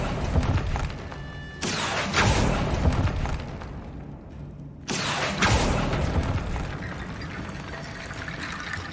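Casting the Accio summoning spell in Hogwarts Legacy makes two sudden whooshing magical bursts a few seconds apart, each fading into a rushing wash of game ambience.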